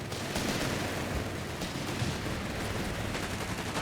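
Sustained gunfire from a machine gun team in Company of Heroes 3, a dense, continuous battle din of rapid shots and rumbling explosions that stays steady and fairly loud throughout, with no talking.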